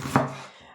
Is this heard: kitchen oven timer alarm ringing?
no